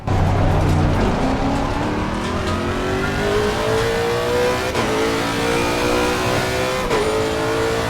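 Race car engine lapping the Nordschleife in a racing game, revving loud and steady as it accelerates through the gears, with two brief gear-shift dips as the pitch climbs again.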